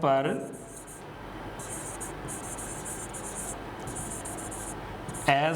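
Marker or chalk scratching across a board during an accounting lecture, a steady continuous scrawl lasting several seconds, close and fairly loud, with brief speech at the start and end.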